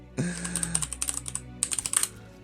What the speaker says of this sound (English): you're faster at typing than me